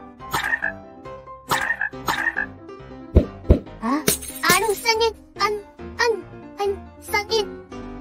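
Cartoon frog croaks in a Minecraft animation, several loud close croaks in an uneven rhythm mixed with a child-like voice and jingly effects.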